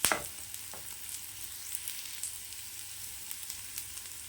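Onions and spices for egg curry sautéing in a pan, a steady soft sizzle and crackle that runs throughout after a brief louder clatter at the start, with no talking.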